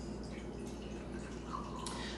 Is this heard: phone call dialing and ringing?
no